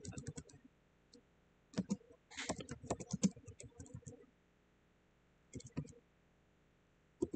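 A computer keyboard is typed on in quick bursts of clicky keystrokes, with quiet pauses between runs, up close and fairly soft.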